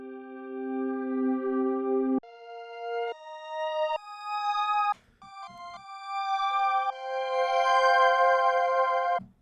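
A reverse-sound synthesizer patch within the Dreamland Combi program, each sustained tone swelling upward in loudness before cutting off, stepping through several pitches in a slow melodic line, close and alone.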